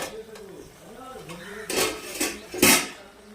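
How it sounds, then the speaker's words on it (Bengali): A cooking pot lid lifts off taro leaves simmering over a low gas flame, giving a few sharp metallic clanks and scrapes close by after a voice talking quietly. "চলো বন্ধুরা ঢাকাটা একটু খুলি"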